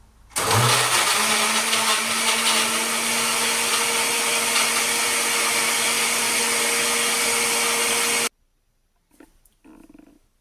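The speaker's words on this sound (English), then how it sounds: "Now in the blender, I've added the sweet potato and some coconut milk as well. So we're gonna blend this." Loud, steady whir of a blender motor running about eight seconds as it purees sweet potato with coconut milk for pumpkin pudding, starting with a jolt and cutting off abruptly, followed by faint handling noises.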